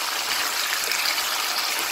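Bottle gourd is poured along with its water into a pot of meat, giving a steady broad watery gush that stays fairly uniform and close for about two seconds, with no talk.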